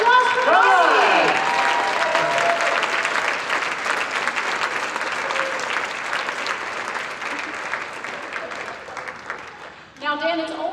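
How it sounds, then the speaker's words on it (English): Sustained audience applause for a volunteer named Marty at a live stage performance, a dense wash of many hands that slowly fades, with a voice talking over the opening and another near the end. "Give a big round of applause for Marty."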